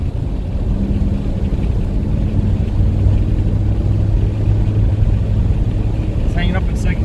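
A 1986 Oldsmobile Cutlass engine runs steadily with a low, continuous drone, its transmission hanging in second gear instead of shifting to third; a brief higher chirp rises near the end.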